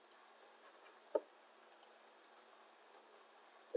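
A computer mouse clicking while working in Android Studio: a few sharp, isolated clicks spread irregularly over quiet background, close and crisp, with no voices.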